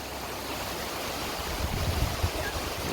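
The Gad river flows below a small footbridge near the Kedarling temple at Bhadkamba village: a steady broadband rush of moving water that swells slightly toward the end, with no voices.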